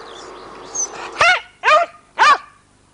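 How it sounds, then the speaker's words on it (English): A dog barks three times in close succession, loud and near, after some faint low background murmur. "Noisy dog."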